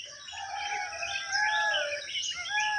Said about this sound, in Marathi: हा मोरांचा केकारव आहे बघा ऐकलात